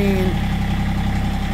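A diesel tractor engine idles just after a cold start using the glow plug, a steady, even rumble with a low throb that holds constant throughout.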